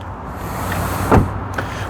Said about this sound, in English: Nice solid sounding doors. Don't know if the mic picked that up or not, but it is a solid thud.